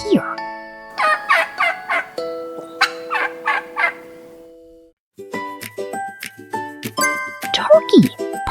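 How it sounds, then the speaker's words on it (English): A farm turkey gobbles in several quick rattling bursts, loud and close, with bright chiming tones ringing between and after the calls. "Turkey. Perfect."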